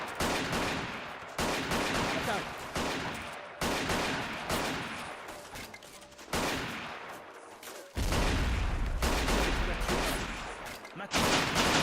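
Troops firing at will in the World War I game Battle of Empires 1914-1918: repeated loud volleys of rifle and machine-gun fire crackling in waves, each burst fading before the next, with a deep rumbling blast near the end.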